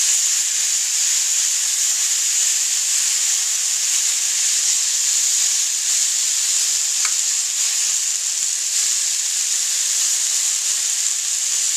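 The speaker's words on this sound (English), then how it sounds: "I'm just going to cook it up in the frying pan." Roast beef in BBQ sauce sizzles steadily in a hot frying pan, a constant close hiss and crackle with no pauses and no talking.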